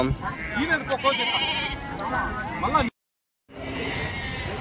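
Goats bleating at a busy goat market in Angallu, several wavering calls near and mid-distance over crowd chatter, cut by a brief silent gap before the market noise returns.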